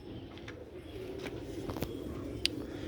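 A prized pigeon from a fancier's loft coos softly and low, nearly masked by ambient room noise, with a few sharp clicks and taps scattered through the moment.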